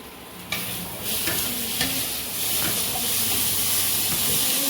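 Food frying in a pan with sugar being stirred in, giving a loud continuous sizzle and hiss under repeated spatula scrapes and stirs, close up with no talking.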